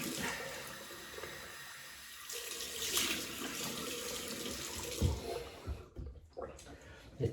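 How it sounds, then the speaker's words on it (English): Tap water running into a sink as a face is rinsed before a wet shave, a steady close splashing rush with brief breaks and wet hand splashes near the end. "So I'm just going to rinse the face."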